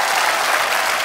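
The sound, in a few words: studio audience applause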